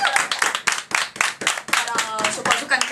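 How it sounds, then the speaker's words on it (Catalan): Studio audience at a radio station claps in rhythmic bursts of close, fairly loud hand claps, with voices mixed in under the applause. "Un aplauso!"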